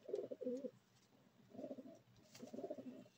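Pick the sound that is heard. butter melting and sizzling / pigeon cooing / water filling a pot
pigeon cooing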